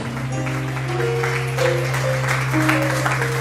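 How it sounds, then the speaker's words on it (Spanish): Church congregation applauding during a Spanish-language worship service, a steady wash of clapping under sustained musical tones, continuous and moderately loud. "Denle aplausos a Él."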